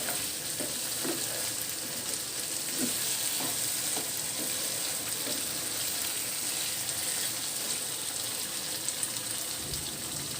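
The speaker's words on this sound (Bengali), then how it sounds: "এভাবে অনেকটা ভাজা ভাজা করে নিতে হবে।" Broiler chicken meat frying in a pan for bhuna, its liquid cooked off, with a constant dense sizzle and occasional soft stirring scrapes, steady and close with no voices.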